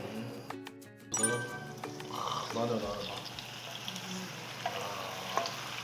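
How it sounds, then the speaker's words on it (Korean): Soy sauce-marinated pork bulgogi stir-frying in oil, a hissing sizzle that swells after a clattering start, with voices talking over it at times. "그러면 이제 볶아주면 돼요."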